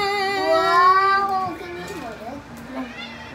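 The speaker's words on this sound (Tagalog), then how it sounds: "Ay, yung pusa, Jella." A cat gives a drawn-out, wavering meow up close, followed by a few softer, shorter mews.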